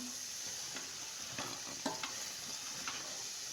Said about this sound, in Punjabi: ਗੈਸ ਫੁੱਲ ਤੇ ਕਰ ਇਸ ਨੂੰ ਹਿਲਾਓ ਚੰਗੀ ਤਰ੍ਹਾਂ